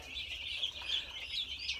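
One-week-old chicks chirp continuously in a brooder near a chicken tractor, a steady, fairly quiet chorus of high peeps with no talk over it.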